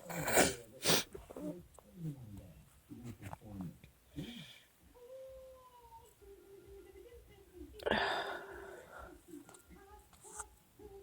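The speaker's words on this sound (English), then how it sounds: "This is like the slowest sneezing attack ever." A person has a slow sneezing attack: several sharp, loud sneezes with strained breaths and whimpering between them, close to the microphone, with brief talking.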